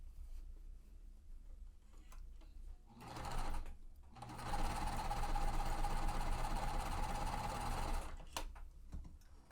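A home sewing machine stitches quilt block pieces together, running in two bursts, a short one and then a longer steady whir of several seconds, fairly close and with no talking.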